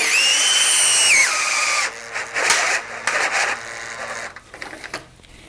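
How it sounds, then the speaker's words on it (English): A power drill drives a screw into a wooden finial for a garden obelisk trellis: a loud rising motor whine, then a run of sharp snaps and clicks as the screw threads mesh inside the wood. "the snapping sound is those screw threads meshing on the inside of the finial"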